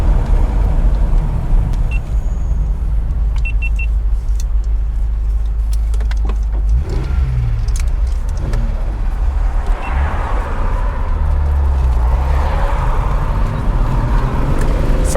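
A 1976 Datsun 280Z drives along with its engine running steadily and close up, a continuous low rumble and road noise with shifts in pitch as the car moves through the gears.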